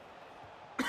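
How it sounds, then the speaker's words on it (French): A commentator's single cough bursts out abruptly near the end of a moment of quiet during an Orange eLeague 2025 esports match broadcast, loud and close. "La fameuse toux que j'ai depuis des mois et des mois que je n'arrive pas à sortir"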